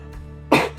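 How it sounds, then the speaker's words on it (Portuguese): A single harsh cough bursts out close and loud after a quiet stretch of room hum, then fades quickly. "perdão pela tosse"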